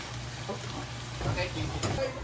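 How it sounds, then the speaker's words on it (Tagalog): Garlic sizzles softly in a pan for fried rice, a faint steady frying hiss broken by a few stirring clinks, with a person talking over it. "Lagyan na igisa ang bawang."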